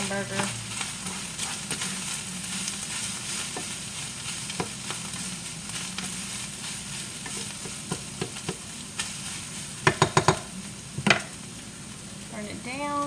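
Hamburger meat fries in a pan with a continuous crackling sizzle, stirred with a utensil that scrapes and clicks against the pan, including a cluster of sharp knocks near the end.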